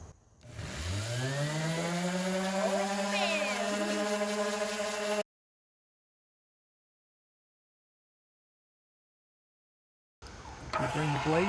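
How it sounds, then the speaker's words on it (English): An electric orbital sander spins up to a steady, close buzzing whine for several seconds, cuts off into silence, then starts again near the end. "Now we got an Orbital sander."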